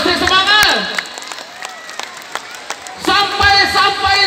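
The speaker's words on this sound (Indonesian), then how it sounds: "Tepuk tangan dulu untuk semuanya." Audience applause at an Islamic storytelling event marking the 1 Muharram celebration, loud bursts of clapping and cheering at the start and end with a quieter patter between, the crowd fairly close.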